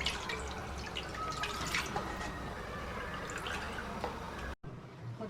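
Jaggery water for apricot and tamarind chutney being poured through a strainer, a steady close trickle and dripping that runs continuously before cutting off abruptly near the end.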